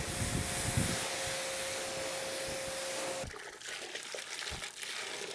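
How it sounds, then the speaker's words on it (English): A stream of water rinses a practice car hood during paint correction, giving a steady, loud hiss of spray for about three seconds. Quieter splashing and dripping follow, with a brief return of spray near the end. "Go ahead and rinse off."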